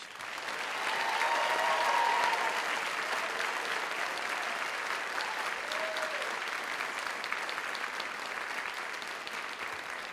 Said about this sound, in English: Ladies and gentlemen, a round of applause for our seniors.